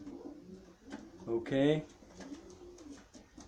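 A pigeon gives a short coo up close while being handled for a Paramyxovirus vaccination, with someone speaking briefly around it in a quiet room.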